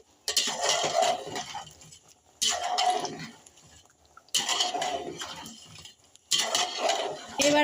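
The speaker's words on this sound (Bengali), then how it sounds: "ফের একবার নেড়ে দেবো। ভালো করে একবার কষিয়ে নেবো আমি।" Spiced goat meat with coriander leaf paste being stirred and fried in a pot for a red potato curry, heard as four separate bursts of spoon scraping and clattering against the pot, with short quiet gaps between them and no talking.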